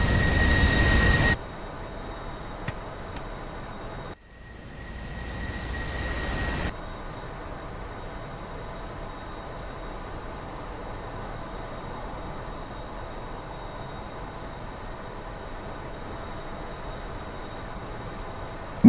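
An F-14 Tomcat jet blast deflector raises behind the aircraft on a carrier deck in a DCS flight simulator, a steady mechanical hum and rumble under constant engine and deck noise, with a brief louder surge partway through.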